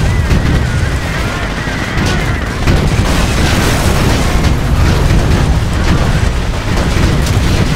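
Sustained battle gunfire in the Company of Heroes video game, loud and dense with bursts of automatic fire and booming explosions rolling continuously throughout, with no break.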